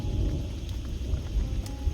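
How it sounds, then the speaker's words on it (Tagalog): Heavy rain falls hard outside, a thick, continuous rushing downpour with a low rumbling undertone and occasional sharper drop hits, steady and fairly close with no talking. "malakas ang ulan"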